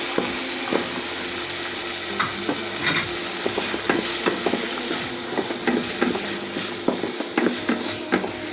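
Tomatoes sizzle and fry in hot oil in a home kitchen as a utensil stirs and scrapes the pan in scattered knocks over a constant crackling hiss, close up with no talking.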